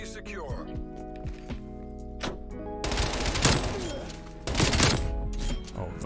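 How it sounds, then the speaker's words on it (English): Automatic gunfire from an MP5 in the video game Call of Duty Black Ops Cold War, with bursts of shots loud and close that come in two dense stretches, while a player talks over the game sound. "Okay, he's shooting back."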